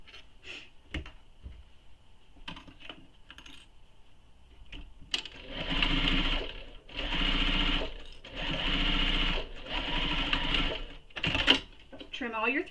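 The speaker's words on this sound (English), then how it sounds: "You just want to top stitch that mountain fold." A sewing machine top stitching the mountain fold of a fabric wristlet runs in three or four steady whirring bursts, close, with a voice talking and small clicks before the stitching starts.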